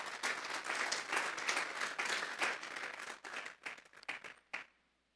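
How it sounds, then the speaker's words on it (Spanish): Congregation applause at a Sunday church service, a few seconds of lively clapping that thins into scattered claps and stops. "Denle un fuerte aplauso pues al Señor."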